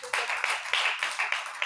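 A church congregation claps for the Lord at a morning service, about nine quick, even, rhythmic claps close by, with no voices over them.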